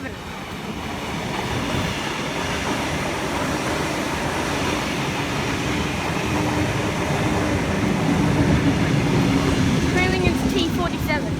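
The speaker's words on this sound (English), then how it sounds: "here we have another train" A Sydney suburban train passing near Carlingford, a steady rumbling roar with wheel clatter that builds gradually and holds loud and close throughout, with voices faintly underneath.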